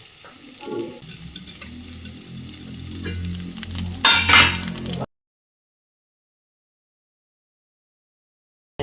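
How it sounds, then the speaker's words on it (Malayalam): Mustard seeds, chillies and curry leaves sizzling and crackling in hot oil, loud and close with a burst of popping before the sound cuts off into silence. "കടുകും മുളകും രണ്ട് കറിവേപ്പില ഇട്ട് അടച്ച് വെക്കാം"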